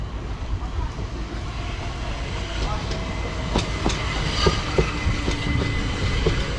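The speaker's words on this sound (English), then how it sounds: "Southern service from London Victoria to Eastbourne." Southern Class 377 electric passenger train, London Victoria to Eastbourne service, rolling into Hampden Park station with a steady rumble, squeals and rhythmic wheel clicks over rail joints, building slightly as it nears.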